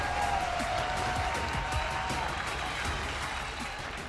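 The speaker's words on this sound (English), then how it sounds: "this crowd erupts" An esports arena crowd roars and applauds after a 2-0 finals win, a dense sustained wash of cheering and clapping loud and close throughout with no clear speech.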